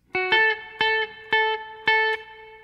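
A single electric guitar plays a short lick, striking five clean, ringing notes in an even, moderate rhythm with no voice over them.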